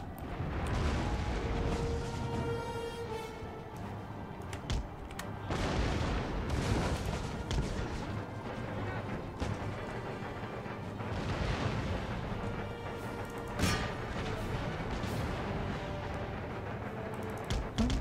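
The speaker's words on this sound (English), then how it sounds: "Let's get all my artillery to hit you with a shrapnel shot" Artillery batteries firing shrapnel shot in an Empire Total War battle, repeated heavy booms and rumbling volleys layered over continuous battlefield din.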